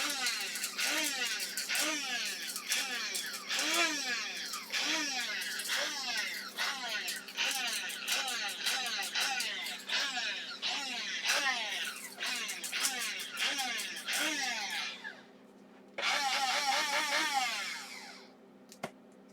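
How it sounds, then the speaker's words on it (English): A coffee grinder loudly grinds cannabis into powder with a harsh, continuous whirring roar and rapid rhythmic pulsing. It cuts out briefly near the end, then surges again before stopping. "sorry the grinder noise is so loud"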